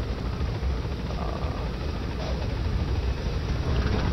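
A helicopter in the video game Metal Gear Solid V: The Phantom Pain makes a steady, dense rotor and engine roar that fills the whole stretch at an even, moderately loud level, with no talking.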